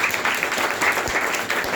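An audience at a youth meeting gives loud, dense, sustained applause that fills the room evenly from start to finish.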